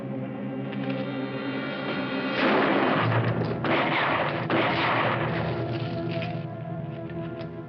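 Gunfire in a 1950 western film: loud shots and booming bursts over a sustained orchestral score, swelling into a dense volley midway before easing off.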